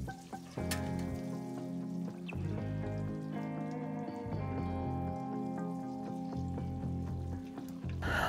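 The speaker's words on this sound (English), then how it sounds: "We take a Dutch oven, put oil inside, deep fried the schnitzel for 1-2 minutes." Pork schnitzel deep frying in oil in a Dutch oven, a steady bubbling sizzle with crackling pops, close up, under a soft musical backing.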